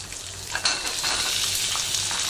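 Big and small onions mixed together frying in hot oil for a quick Tamil tomato chutney, a continuous bright sizzle with occasional stirring scrapes and small crackles.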